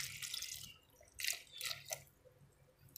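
Boiled sugar syrup, a kilo of sugar cooked down, poured from close by over Indian gooseberries in a jar, giving soft wet splashing and trickling in a few uneven bursts.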